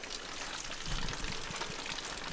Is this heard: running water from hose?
yes